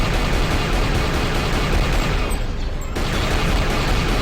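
Rapid turret gunfire in Knights of the Old Republic 2 rattles on continuously and loud through the whole stretch, a dense mechanical barrage with a brief dip midway before it resumes.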